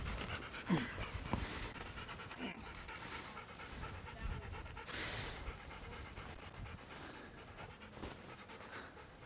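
A dog pants in quick, steady breaths close to the microphone, continuing throughout with a few faint whimpers mixed in.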